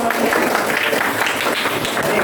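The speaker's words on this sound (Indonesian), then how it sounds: "Oke, tepuk tangan untuk kita semua." A classroom group claps together during a teaching practice lesson, a loud, dense patter of hands that runs continuously throughout, with voices faintly mixed in.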